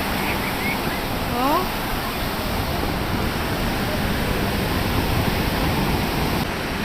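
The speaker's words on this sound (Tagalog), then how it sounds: "Oh, ang lakas ng alon," Steady broadband roar of heavy surf crashing continuously on the coast at Baler, Aurora, loud and close, with a brief exclamation over it and a few faint bird chirps.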